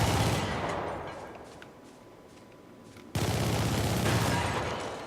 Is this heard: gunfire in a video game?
yes